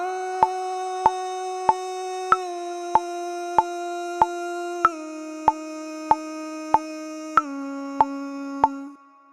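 A high-pitched background nasheed layer made in the BandLab mobile app: sustained, steady tones with evenly spaced soft plucked accents roughly every half second. The pitch steps down a few times, and it plays alone at moderate volume before stopping abruptly.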